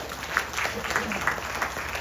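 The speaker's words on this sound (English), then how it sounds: "Please give the family a big round of applause." A gathering at a Gita Yagna, a Katha and Puja observance, claps briefly for the hosting family; moderate, somewhat uneven applause runs throughout with voices mixed in.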